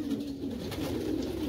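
Several pigeons coo in a low, steady murmur from young birds kept by a hobbyist, a continuous overlapping burble close by with no voices.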